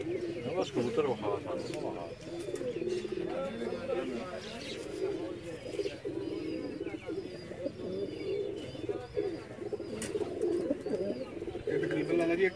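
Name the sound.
pigeons cooing on a rooftop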